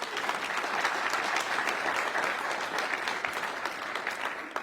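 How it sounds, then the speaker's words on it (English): A crowd claps together in a dense, steady burst of applause that holds throughout before easing slightly near the end. "You can clap at that, it's pretty good."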